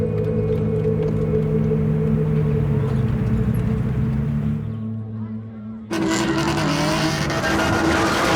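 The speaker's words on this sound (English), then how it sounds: "So I was spinning the car in the road." A car spinning on a road with tires squealing, a loud sustained engine roar and long tonal screech that dips briefly and then surges back in, with a voice talking over it.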